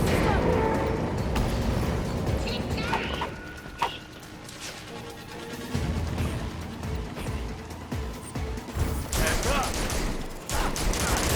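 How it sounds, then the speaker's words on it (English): The barrage ability attack in Gotham Knights, a rapid volley of blasts and impacts with crashes and mechanical clatter running throughout, loud and dense, with a speaking voice over the combat. "There's our barrage ability."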